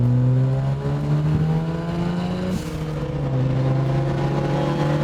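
A rotary-engined Nissan 720 pickup accelerates at a rotary gathering at a raceway, its steady engine tone climbing gradually in pitch, loud and close throughout with no talking.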